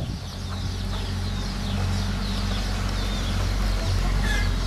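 Laying hens and chicks cluck and peep in a backyard coop, with soft chirps and clucks over a steady, fairly loud background noise.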